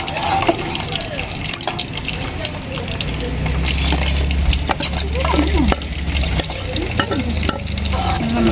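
Creamy chicken sauce is stirred in a pan after milk and ground cashew paste go in, giving a wet, sloshing scrape with occasional utensil clinks against the pan and a low sizzle underneath.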